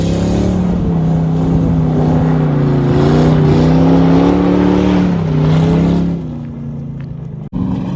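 A lifted Crown Victoria with a welded rear differential and 5-inch lift revs hard off-road, its engine rising and holding a loud roar for several seconds before dropping off, followed by a sharp knock near the end.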